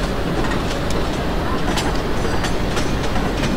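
A passenger train in the Open Rails simulator pulls out of Bhusaval station, a steady loud rumble with rhythmic wheel clatter and clicks throughout.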